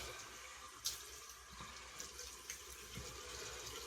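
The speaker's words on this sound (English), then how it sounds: "Cold water rinse." Cold well water runs steadily from a tap for a rinse after a straight-razor shave, making a continuous, soft splashing hiss with a few small spattering bumps.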